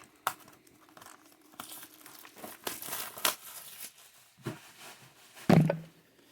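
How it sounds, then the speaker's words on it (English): Plastic overwrap crinkles and tears off a 2021 Panini Donruss NASCAR Racing hobby trading card box, a close run of irregular crackling bursts ending in a louder rip, with no talk. "We'll get this overwrap taken off of it."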